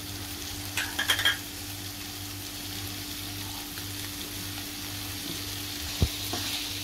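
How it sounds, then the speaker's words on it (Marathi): Salt gets stirred into potatoes and fenugreek leaves in a pan, a soft sizzle and scraping stir over a steady low hum, with a few clicks of the utensil against the pan. "आता मीठ चांगलं मिक्स करून घेऊया"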